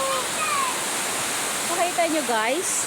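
A waterfall in Kibawe, Bukidnon roars as a steady, even rush of falling water, while a person talks over it.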